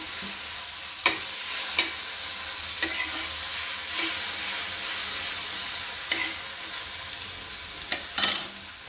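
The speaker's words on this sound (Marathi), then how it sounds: "आपली मिरची लाल होईपर्यंत आपल्याला छानपैकी भाजून घ्यायचं आहे आणि याला तेल पण जास्त लागत नाही" Chilies and tomatoes fry in a little oil in a pan for Kolhapuri thecha, giving a soft, steady crackling sizzle broken by occasional stirring clicks, with no talk.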